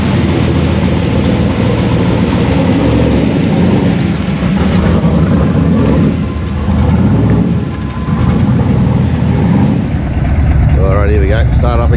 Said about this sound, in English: Get the bike going, sounds good.